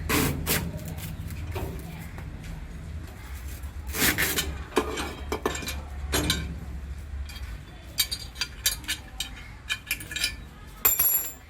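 A tender coconut is cut open with a curved hook knife hooked into a hole in a grill, giving scattered scraping, knocking and sharp cutting strikes at close range, irregular and fairly quiet.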